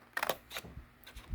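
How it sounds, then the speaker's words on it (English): Card paper being cut along a score line for a 5x7 envelope, a few crisp snipping crunches close up and quiet, then a brief pause and another short cut. "We're going to cut from here to the first score line."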